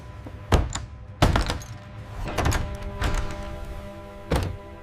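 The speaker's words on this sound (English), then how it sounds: "I hear our front door being pushed down." A front door is forced in with a series of heavy thuds and cracking impacts, irregular and close, with splintering bursts between the blows.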